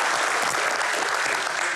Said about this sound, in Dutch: Geef hem een warm applaus.